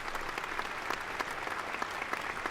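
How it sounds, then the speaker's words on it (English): Steady, dense applause from a podcast audience welcoming a guest, a continuous wash of many hands clapping at even loudness throughout, with no voices standing out. "Hold on, I'm gonna let the applause go all the way."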